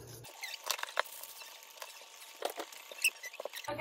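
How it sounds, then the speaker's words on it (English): Whipped coffee mixture whisked by hand in a cup, making quiet, irregular scratchy ticks and patters of the whisk against the sides, close but faint, with no voices. "So now we're gonna whisk it for 10 minutes"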